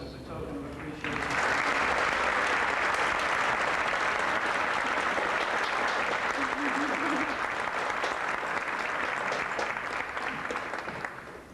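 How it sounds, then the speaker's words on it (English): An audience applauds for Earl Robbins at a 1993 peace and brotherhood lecture, steady, dense clapping from a large crowd that begins suddenly after a second of quiet and holds evenly for about ten seconds. "Earl, would you stand and accept applause from us as a token of appreciation?"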